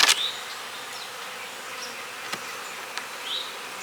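Honeybees hum steadily around a beehive, with a few individual insects passing close by and fading, under a constant buzzing colony drone.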